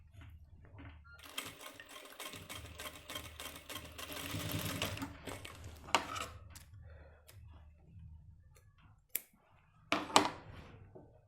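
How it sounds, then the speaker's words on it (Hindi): A sewing machine stitches the back pocket of a pair of men's pants with a quiet, fast whirring run of several seconds, then brief starts and clicks of handling around it. "यहाँ सिलाई मार दी जाती है इस जगह पे"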